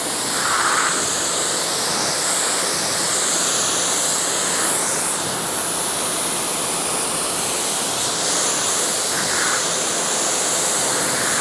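Water rinsing a car during a wash, a steady broadband hiss of spraying water running throughout, close and fairly loud, with brief shifts as the spray moves.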